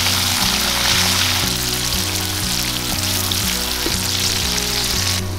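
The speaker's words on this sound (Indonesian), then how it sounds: "Oke, kita goreng sampai agak-agak gosong gitu ya." Chilies and shrimp paste fry in a hot wok, giving a loud, steady sizzle and crackle that runs unbroken throughout, with a low rhythmic hum beneath.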